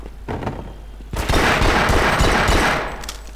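A gun firing in Half-Life Source: a short, quiet lead-in, then a loud, rapid burst of gunfire that holds for about two seconds before tapering off, with no talking.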